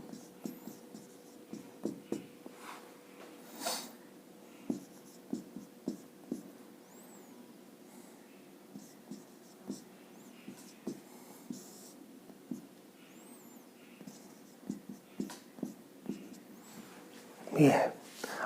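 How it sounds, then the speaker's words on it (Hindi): A pen scratches and taps while a maths question on inequalities is written out, producing soft, irregular strokes at close range over a quiet room, with a brief louder rustle near the end. "जैसे एक और एग्जांपल में क्वेश्चन लिख रहे हैं आपको हम"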